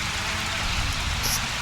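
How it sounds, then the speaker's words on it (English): Rain falls in the Project Cars racing game during an LMP2 race at Hockenheimring, a dense, steady hiss of rainfall that stays even and unbroken throughout, with no talking. "It's already raining its butt off"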